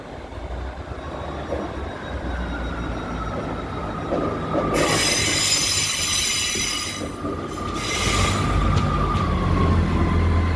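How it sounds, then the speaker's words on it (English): A Northern class 158 passenger train arrives at Leeds station, its wheels squealing loudly against the rails over a steady rumble, with a second squeal near the end; no voices are heard. "the train now arriving in onto this platform is the Northern service from Halifax to Hull"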